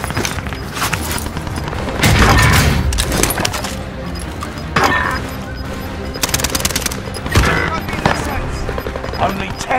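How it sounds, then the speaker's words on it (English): Loud, near gunfire in Call of Duty Modern Warfare, rapid machine-gun bursts and booming shots in clusters throughout, with game voices speaking over the firing. "Receiving hostile fire!"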